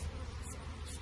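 Honey bees swarm over a honey frame during a harvest, a steady close, low droning buzz filling the whole moment with no talk.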